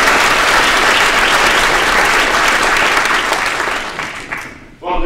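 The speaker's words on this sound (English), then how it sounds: "So we need a warm round of applause." Audience at an evening quantum physics science show applauds loudly and steadily, the clapping fading out near the end as a voice begins to speak.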